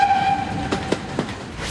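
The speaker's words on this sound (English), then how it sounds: "Did you hear the sound from the train whistle?" A train whistle sounds as a brief, fairly loud tone at the start and then fades under the rumble and clatter of a passing train on the track.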